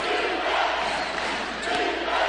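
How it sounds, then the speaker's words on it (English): A college basketball arena crowd roars during a close Lipscomb Bisons at Stetson Hatters game, a loud sustained wash of cheering and yelling that swells and dips briefly. "looking to quiet this crowd"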